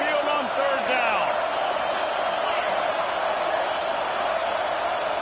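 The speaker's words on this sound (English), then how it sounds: "The Tide crowd rolling noise down onto Saban Field on 3rd down." Stadium crowd roar in the college football game NCAA 25, a loud steady wash of noise filling the stands at Saban Field for the Tide on third down, with voices over it.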